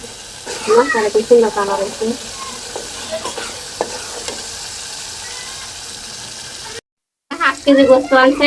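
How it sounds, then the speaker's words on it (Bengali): Beef with salt, turmeric, chilli powder and cumin being stir-fried for bhuna, with a loud close sizzle and repeated scraping stirs; a voice talks over the first part and again near the end, with a brief gap of silence between. "ভালো করে কষাই নিতেছি"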